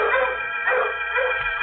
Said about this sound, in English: the dogs outside set up a holler that raised goose pimples all over me